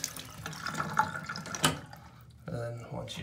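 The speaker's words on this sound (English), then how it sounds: "that allows water to go down." Water runs and gurgles down a newly replaced bathtub drain, with uneven splashes and trickles close by, a brief quieter gap, then more flow, and some speech faintly mixed in.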